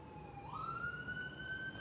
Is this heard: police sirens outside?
yes